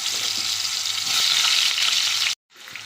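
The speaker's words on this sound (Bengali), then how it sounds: "ওই একই তেলে আলুগুলোকেও লাল করে ভেজে নেব" Potatoes fry in hot oil left over from frying eggs, a loud, steady close sizzle that drops out abruptly near the end and then resumes faintly.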